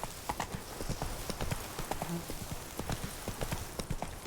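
Horse galloping in the video game The Witcher 3: Blood and Wine, a steady, close rhythm of clip-clop hoofbeats running throughout while someone talks over it.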